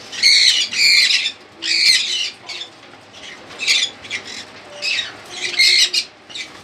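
Cockatiels at a bird farm squawk in loud, shrill repeated calls close by, coming in overlapping bursts with brief gaps and no talking.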